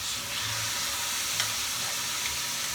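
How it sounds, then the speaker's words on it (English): Shrimp sizzles and crackles steadily in a hot frying pan, a constant bright hiss with small pops, fairly quiet and close. "Oh, sizzle."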